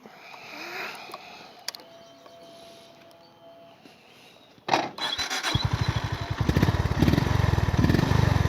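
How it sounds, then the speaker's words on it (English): A 2025 Honda GB350 single-cylinder motorcycle engine is cranked and fires up close by, shifting from quiet background to a loud, steady thumping idle with a regular low pulse. "So yeah, let's start her up."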